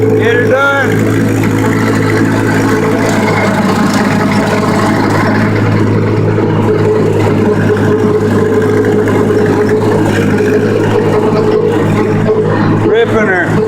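Tractor engine roaring loud and steady as it strains to pull out a big stump, a constant heavy drone throughout with no break.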